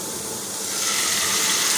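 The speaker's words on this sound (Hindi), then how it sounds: "आप इसमें ना थोड़ा सा पानी डाल दें।" Water is poured into a pan of vegetables sautéing on the stove, a short steady splashing gush that grows slightly louder partway through, close and alone with no talking.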